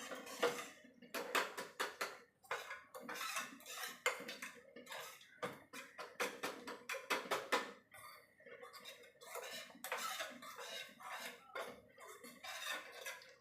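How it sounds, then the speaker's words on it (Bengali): Ground chili and spices are stirred with water into a paste, a spoon scraping and clinking rapidly against a metal bowl in quick, close bursts. "এবার এইগুলো সব জল দিয়ে একটা পেস্ট বানিয়ে রাখবো।"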